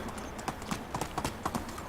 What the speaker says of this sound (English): especially since our horse is nice and fast